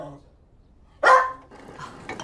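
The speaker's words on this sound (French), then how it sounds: "Banjo, qu'est-ce que t'as aboyé?" A dog gives a single sharp bark in a home kitchen where a cup is being set down, loud and close, followed by faint clinking and quiet room sounds.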